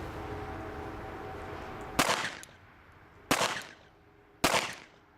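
Three pistol shots fired one-handed during a county concealed-carry qualification, evenly spaced, each a sharp loud crack with a short echoing tail over steady outdoor background, no talking.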